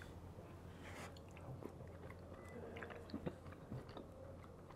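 Quiet, close chewing of a hamaguri clam during a Japanese traditional course lunch, soft wet bites and small crunches in an irregular rhythm.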